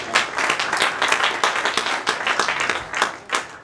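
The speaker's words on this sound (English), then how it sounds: "Give him a round of applause," An audience at a Chabad tenth-anniversary gala applauds with dense, sustained clapping throughout, fairly close and loud, with no one talking over it.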